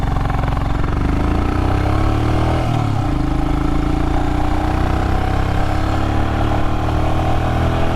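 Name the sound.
Royal Enfield Himalayan motorcycle engine running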